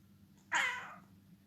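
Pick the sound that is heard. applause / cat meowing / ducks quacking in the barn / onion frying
cat meowing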